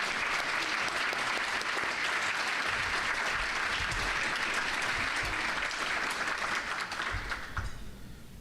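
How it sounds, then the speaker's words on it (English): Steady, dense applause from an audience honoring culinary arts students at a school director and legislator briefing breakfast, sustained at full strength before thinning out near the end. "I'd like to give them one more round of applause."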